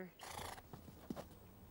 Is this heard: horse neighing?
yes